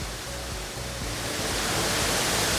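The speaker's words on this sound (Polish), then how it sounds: "Tutaj widać teraz wodospad" A waterfall in Slovenia pours with a steady, dense broadband rush, loud and continuous throughout, with no voices.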